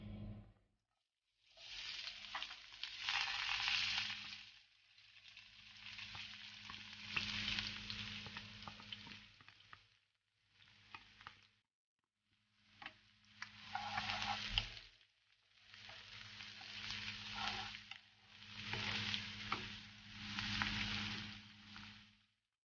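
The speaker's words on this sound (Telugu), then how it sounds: "ఆయిల్ బాగా హీట్ అయిందండి ఇప్పుడు మనం ఆనియన్స్ వేసుకుందాం" Onions are dropped into well-heated oil for a chicken curry and fry with a steady, close sizzle, rising and falling in bursts separated by brief pauses as they are stirred.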